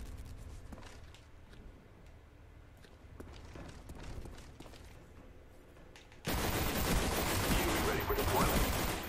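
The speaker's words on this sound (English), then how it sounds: "Shooting RPGs in the building." Game gunfire in a Black Ops firefight, with scattered sharp shots and footsteps under a low rumble, then a sudden loud, sustained burst of broadband noise like heavy explosive fire hitting a building.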